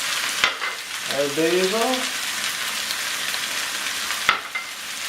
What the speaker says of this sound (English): all we're going to do now is to stir in these tomatoes